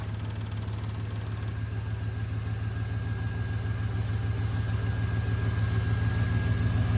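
A small-block Chevy V8 in a 1970 C10 pickup truck cranks over steadily without firing, a continuous rhythmic chugging of the starter held close and loud for the whole stretch.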